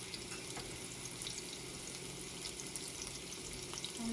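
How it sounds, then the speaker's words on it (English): Minced garlic frying in hot olive oil in a pan, a soft, steady hiss and faint crackle throughout, fairly quiet with no talking. "I'm just going to add some minced garlic"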